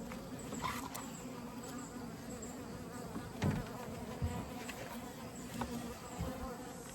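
Bees hum and buzz inside a 24-frame Layens horizontal hive during an August inspection, a dense, close drone with occasional louder passes of single insects.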